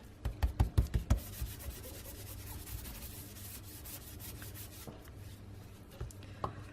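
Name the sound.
embossing buddy rubbed over paper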